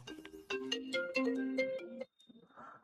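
A melodic phone ringtone plays loudly in repeated tonal bursts for about two seconds, then cuts off abruptly, leaving faint background noise.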